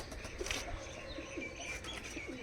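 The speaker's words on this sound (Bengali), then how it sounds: "বন্ধুরা দেখো কবুতর দেখো বন্ধুরা" Teddy pigeons in a loft coo softly and steadily, with faint chirps mixed into a dense, low murmur of birds throughout.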